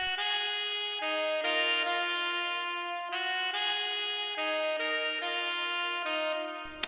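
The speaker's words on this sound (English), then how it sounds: "This lead trumpet right here," Sampled lead trumpet from a free DVS Saxophone software instrument, a bright brassy synthesized line of sustained notes changing pitch in steps, clean and alone, ending on a short click.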